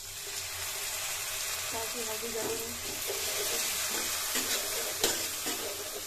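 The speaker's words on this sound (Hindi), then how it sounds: "पानी डालेंगे" A small splash of ice water hits a hot pan of spinach being cooked for palak paneer, bringing a steady hiss and sizzle with light clatters while a voice speaks briefly.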